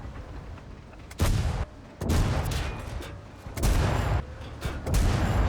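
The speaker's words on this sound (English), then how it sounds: "I know the artillery is still going to just pepper me all the time" Artillery fire in World of Tanks lands as a series of heavy, muffled booms and rumbling blasts, several distinct surges over a few seconds amid continuous battle noise.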